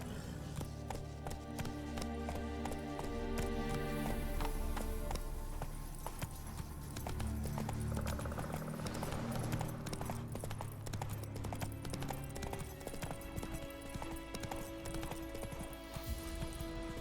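A horse galloping in The Witcher 3 video game, heard as rapid rhythmic hoofbeats running continuously under a busy layer of game music and ambience.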